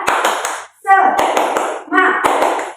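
Schoolchildren in a classroom perform a rhythmic spirit clap, with short bursts of sharp, loud claps in a patterned beat, broken up by brief group chanting between the clap phrases.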